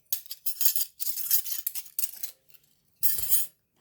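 Metal pots, a kadai and spoons clinking together in a kitchen, a series of close, bright clattering bursts with short gaps and a final louder clank, no talking.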